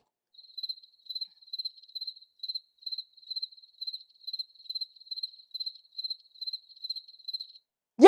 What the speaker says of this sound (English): You get the crickets